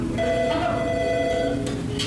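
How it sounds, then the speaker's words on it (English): A school office telephone rings with one sustained electronic tone lasting over a second, up close and fairly loud against a steady background hum. "I would guess this phone rings anywhere from 50 to 150 times a day."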